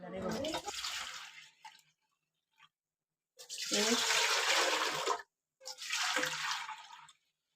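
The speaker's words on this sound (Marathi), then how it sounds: "जेवढी डाळ त्याच्या डबल पाणी घालणार आहे" Water pours into a cooking pot for dal in three separate bursts, steady and close, with short silent gaps between them.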